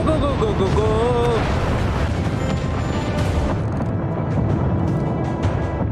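Warship guns firing in the naval video game World of Warships: heavy, booming blasts and rumbling under a constant dense wash of battle noise, with a voice speaking briefly.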